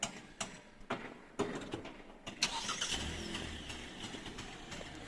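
A car engine starts after a few clicks and knocks, then settles into a low, steady idle rumble up close.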